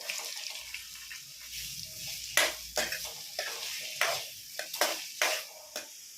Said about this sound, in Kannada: ಈಗ ಈರುಳ್ಳಿ ಕೆಂಪಾಗಿದೆ, ಫ್ರೈ ಆಗಿದೆ ಚೆನ್ನಾಗಿ.